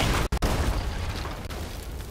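Ship cannon fire in the pirate game Sea of Thieves, a loud booming blast that fills the short moment, with a brief dropout then continued rumbling.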